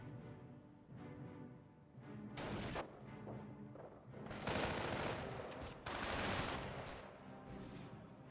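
Bursts of MG42 machine gun fire in the Company of Heroes strategy game, several rapid rattling volleys at moderate volume with short pauses between them, no talk over them.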